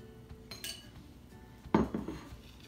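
A utensil clinks and scrapes against a bowl while vegan donut batter is mixed, the margarine still a little chunky, with soft taps followed by a louder burst of knocking near the end.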